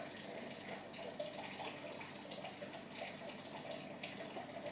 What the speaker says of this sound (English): Can you hear that trickling in the background?